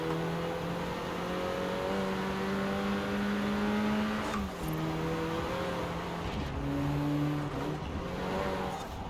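A Renault Clio R.S. 16 Concept in Forza Horizon 4 drives with an engine note that rises and falls through gear changes, steady and prominent, with no talking.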